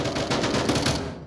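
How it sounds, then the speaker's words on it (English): Gunfire in the VR shooter Onward during a competitive match, a dense continuous rattle of rapid shots from several weapons exchanged around boxes, loud and sustained. "It's a shootout around the boxes."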